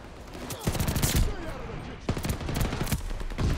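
Bursts of gunfire from a gun in Call of Duty: Vanguard, two or three clusters of rapid shots separated by short gaps, loud and near amid game noise.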